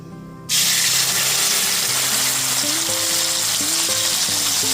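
Tomato paste hits hot oil and tempered spices with a sudden loud sizzle, then fries steadily in a continuous bright hiss, with faint tonal clinks and scraping sounds beneath.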